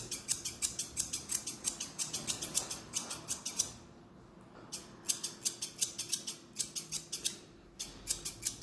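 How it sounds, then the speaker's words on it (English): Scissors trim a Bichon's coat after clipping with comb attachments: quick, steady, crisp snips in a close, rhythmic run, broken by two short pauses. "now let's just fix this a little bit with scissors"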